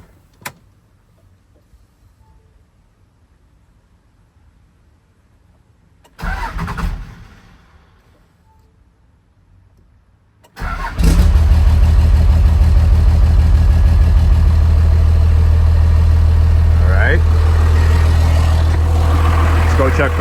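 Dodge Ram second-generation 12-valve Cummins diesel after a delivery valve install: a brief cranking burst, a pause, then the engine catches and settles into a loud, steady, rumbling idle up close.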